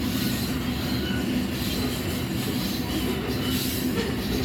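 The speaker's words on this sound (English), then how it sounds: "Just picking some speed up now with 3 CN units on the head here." A freight train hauled by three CN locomotives picks up speed on level track, giving a steady, loud rumble of rolling wheels and cars with faint squeal, and no voices over it.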